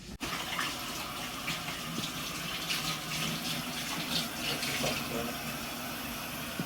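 Tap water runs steadily for handwashing before cooking, a continuous close gushing stream that stays loud and even from start to finish.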